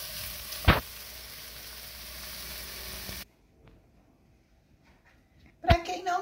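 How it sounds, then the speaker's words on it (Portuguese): Leek sizzles steadily as it sautés in a hot pan, with a couple of sharp clanks of a utensil against the pan before the frying noise cuts away to near silence, then another clatter at the end. "Vou colocar o alho poró e deixar refogar."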